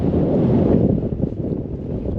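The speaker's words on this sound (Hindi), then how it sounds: "अभी हवा बहुत ज़्यादा तेज़ चल रही है" Strong wind in Leh, Ladakh buffets the microphone in a continuous low roar, loud and gusty throughout with no one speaking.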